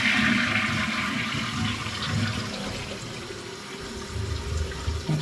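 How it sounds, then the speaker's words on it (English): A toilet flushing, a loud continuous rush of water that stays strong throughout with gurgling and swirling, close by. "I'll flush it a few times."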